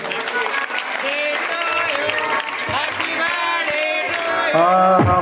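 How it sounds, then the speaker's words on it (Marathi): Applause for a girl's 12th birthday at a devotional gathering: sustained, fairly loud clapping mixed with voices and tonal singing or chanting, building toward the end. "आज तिचा वाढदिवस आहे टाळी वाजवायला"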